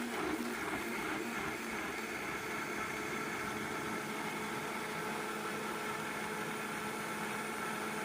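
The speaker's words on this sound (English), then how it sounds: "So now it's going into my blender. I am going to puree this." Countertop blender pureeing tikka masala sauce with water, a steady whirring motor hum that stays even and fairly quiet for about eight seconds, with no voices.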